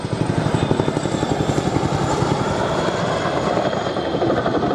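An RAF Chinook twin-rotor helicopter flies steadily nearby at an air festival, its rotor blades thumping in a fast even pulse over a broad engine roar.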